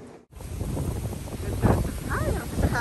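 Wind blows outdoors on Guam, rumbling as steady, buffeting noise across the microphone, with brief voices emerging near the end.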